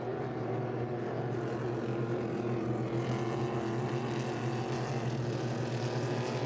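A loud, steady engine roar drones continuously with a constant low hum from a 5-litre class racing hydroplane running at high speed nearby during a race heat at Beauharnois.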